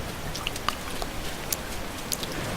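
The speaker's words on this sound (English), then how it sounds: "It has never rained before for me." Soft, steady patter of rain in the game Spore, with scattered faint drips and taps over a low background wash, no voices.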